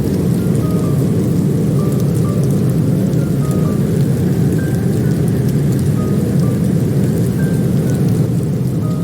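Heavy rain and hail hammer down steadily during a severe thunderstorm in eastern France, a dense continuous roar with faint rumbling underneath and no voices throughout.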